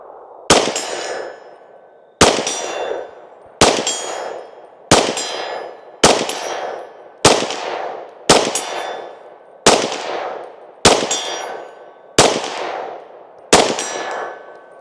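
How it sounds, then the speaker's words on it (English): Eleven single shots from a Glock 31 pistol firing 100 grain frangible ammunition at a target 50 yards away, each a sharp loud crack with a ringing tail, spaced about one to one and a half seconds apart outdoors. "we're gonna shoot some out at 50 yards"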